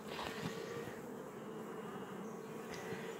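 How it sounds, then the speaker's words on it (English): Drone bees, male honeybees, buzz at an apiary hive, a steady, close droning hum with overlapping wingbeats that holds throughout without speech. "This is a drone bee."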